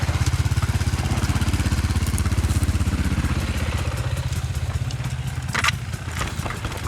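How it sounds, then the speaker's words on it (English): Dirt motorcycles on a downhill trail, a close, rapid, throbbing engine putter that fades slightly as a rider passes, followed by clattering and rattling bursts from the trail. "have to pass these moto guys"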